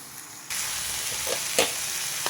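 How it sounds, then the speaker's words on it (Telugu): Tomatoes and onions soften in a pan with salt, giving a steady sizzle after a quiet start and a few brief stirring clinks near the end. Jackfruit seed curry is being cooked. "ఇప్పుడు టమాటా ఉల్లిపాయ ఇంకొంచెం మగ్గాలండి ఇంకొంచెం మగ్గనిస్తా"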